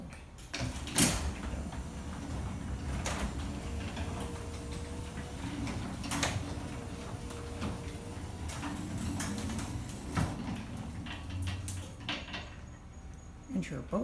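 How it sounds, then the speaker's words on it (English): A Precision PDS 800 opener raises an overhead garage door in Sarasota, Florida, heard from inside as a steady mechanical rumble with clicks and clunks throughout, fairly faint. "And let's open up the right door."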